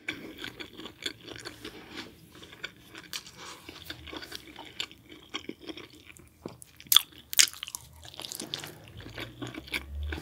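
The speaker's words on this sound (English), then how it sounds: "These street tacos are wonderful." Homemade chicken street tacos are eaten up close, with soft wet chewing, crunching bites and a few sharper crinkles in quiet surroundings, no talking.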